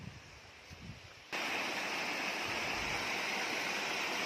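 A small mountain stream runs beside the trail to Babaji cave. After a quiet opening, a steady rush of flowing water swells in and continues evenly, close and fairly loud, with no voices.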